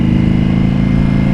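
A 2025 Indian Scout Bobber motorcycle with a Vance&Hines aftermarket exhaust idles with a loud, close, steady deep rumbling throb and an even low pulse.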